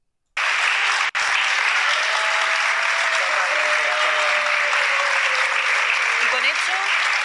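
A television studio audience bursts into applause after a brief silence, loud sustained clapping that holds steady to the end with a faint tone running beneath and talk underneath.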